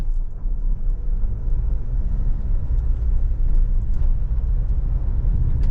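A 2024 SsangYong Musso creeps slowly off road in four-wheel drive high, its engine a steady low rumble with road and tyre noise close by throughout, no talking.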